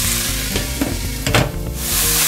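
Tomatoes sauté in a pan for pav bhaji, giving a loud, close sizzle with a few stirring scrapes and soft bubbling. There is no talk.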